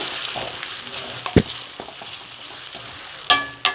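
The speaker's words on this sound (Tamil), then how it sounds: "இப்போ நம்ம அரைச்சி வச்ச மாங்காய் விழுது சேர்த்துக்கலாம். நல்லா இந்த எண்ணெயில் பெரட்டி விடுங்க." Ground raw mango paste fries in oil while being stirred, giving a soft sizzle under a few sharp spoon clicks and scrapes against the pan.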